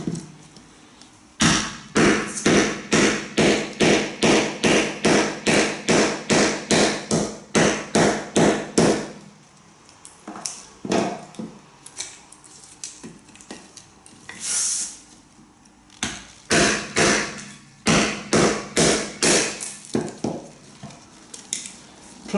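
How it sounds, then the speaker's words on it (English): A plastic-head hammer strikes a scandi-convex knife blade in a fast, even run of sharp taps, then a pause and scattered, irregular knocks and clatter, close and fairly loud, with no speech. "Therefore, I use this hammer."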